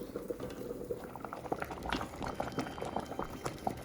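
Khanom jeen rice noodles boil in a pot over medium heat, giving a steady, close bubbling and popping with a dense liquid churn throughout and no voices.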